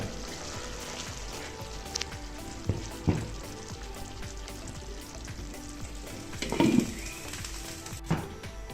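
Tadka tempering in hot oil in a frying pan for daal, a steady close crackling sizzle with occasional louder pops and stirring clinks, with no talking.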